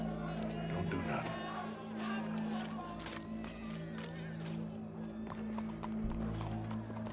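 Hooves clip-clop from a horse in a Western-style video game. Rhythmic footfalls sound over a low ambient drone while a voice speaks nearby.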